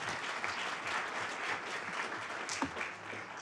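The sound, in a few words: applause for a student at a town council meeting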